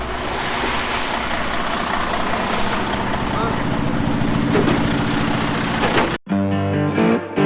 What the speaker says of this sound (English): truck is here with gravel